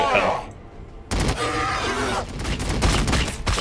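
Rapid gunfire volley from ranked troops in the Warhammer 40k Battlesector strategy game, bursting in loudly after a brief lull and rattling on densely for over two seconds, with a gruff voice briefly audible.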